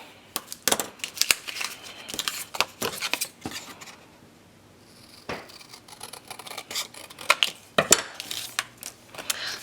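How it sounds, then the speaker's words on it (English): Scissors trim paper for a 6x6 mini album page, giving a series of crisp, close snips and rustles in irregular bursts with a quiet pause midway and no talk. "So I'm just going to mark it and trim it off there."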